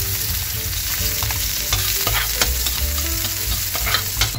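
Garlic sizzles and crackles in a hot pan for pork menudo while a utensil stirs and scrapes it, a continuous close frying hiss with no voices.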